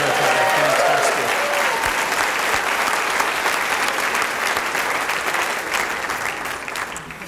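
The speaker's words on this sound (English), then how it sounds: "Can we sneak in a quick round of applause for Peg?" Banquet audience breaks into a loud, sustained round of applause for a retiring colleague, dense clapping filling the room and slowly thinning toward the end.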